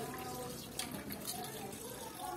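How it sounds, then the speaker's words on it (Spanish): Water siphons through a hose in a Bernoulli demonstration, giving a continuous splashing, gurgling flow with occasional bright spatters. A voice talks faintly underneath. "Podemos observar cómo fluye el agua por medio de la manguera"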